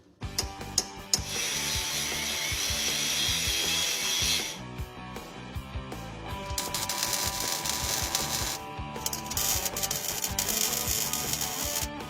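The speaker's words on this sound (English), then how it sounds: "I'm going to weld it across there, underneath there" Welding a steel strap under a 1952 Jeep to stiffen the overdrive shifter mount: loud continuous crackling and buzzing bursts with brief pauses and clanks, close by, no talking.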